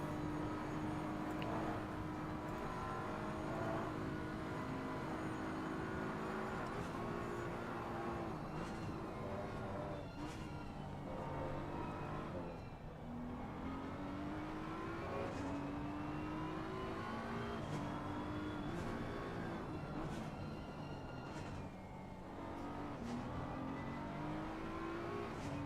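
Onboard BMW race car engine during a simulated endurance race at Bathurst, a steady loud engine note rising and falling through gear shifts and corners for the whole stretch, with no talk over it.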